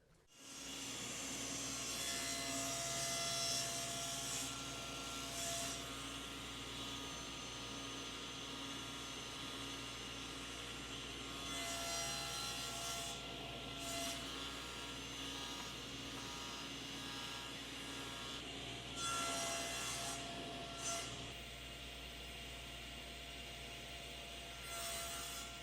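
Table saw making 45-degree cross cuts on a wooden table leg: a loud, sustained motor whine with brief shifts in tone as the blade passes through the wood, running alone without speech.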